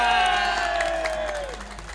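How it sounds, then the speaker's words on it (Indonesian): A studio crowd at an Indonesian variety show cheers and applauds, a loud continuous wash of voices and clapping that slowly fades, with a descending whistle-like tone sliding down through it. "Tepuk tangannya dulu dong buat Dasyat dong"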